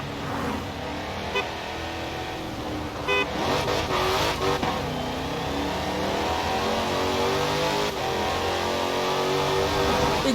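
A Dodge Challenger Hellcat Redeye Widebody in Forza Horizon 4 accelerating from 30 to 110 with a manual gearbox, its engine roaring loud and continuous as the pitch climbs through the gears.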